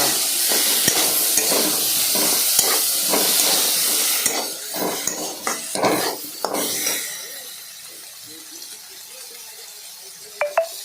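Chopped onions hit a hot pan for ghugni and sizzle loudly, broken by the clatter of spoon-stirring against the pan. The sizzle then fades to quieter frying with a few sharp metallic taps near the end.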